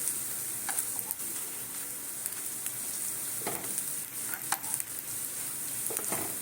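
Drumstick-flower and mustard-flower fritters shallow-fry in a little oil, a steady close sizzle broken by occasional soft taps and scrapes of a spatula, with no voices.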